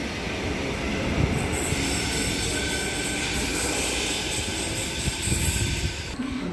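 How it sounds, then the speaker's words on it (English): An express train runs through Kogarah station on platform 1 without stopping, a loud continuous roar of wheels and rails with squealing, staying close and steady throughout. "I was correct, the next train on platform 1 does not stop."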